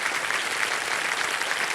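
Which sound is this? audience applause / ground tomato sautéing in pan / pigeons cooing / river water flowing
audience applause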